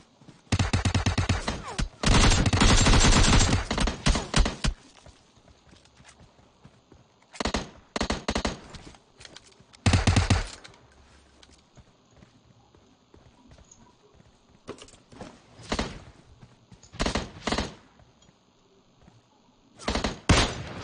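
Gunfire from a no-scope headshot in a video game: a long burst of rapid shots, then scattered single and clustered cracks, loud and sharp over a quiet game background.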